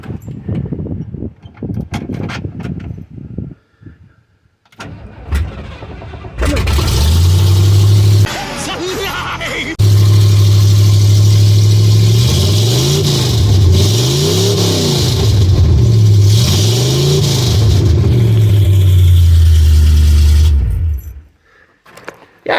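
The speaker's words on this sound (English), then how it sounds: "that sucker's pretty loud without any exhaust on it" A truck fitted with long tube headers and no exhaust system cranks over, fires up and idles with a loud, raw rumble, then revs repeatedly in rising and falling surges before shutting off, with a few spoken words before it starts.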